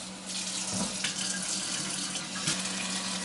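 Water pours steadily from a kitchen sink tap into the basin, a continuous close splashing rush with a faint low hum beneath and no talking.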